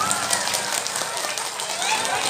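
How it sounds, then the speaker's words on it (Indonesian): Women in the audience at a kyai's sermon clap hands together in a dense, crackling patter that sounds almost like rain, with voices mixed in throughout. "khusus ibu-ibu tepuk tangannya."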